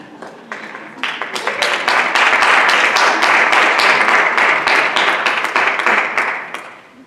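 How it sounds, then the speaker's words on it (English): A room of people at a school board meeting breaks into applause. Dense, close clapping builds within a second, holds steady for several seconds, then tapers off. "Can I clap?"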